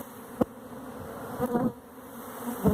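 A swarm of honey bees buzzes around a new hive, a steady hum with a few louder passes as bees fly close by, with no talking.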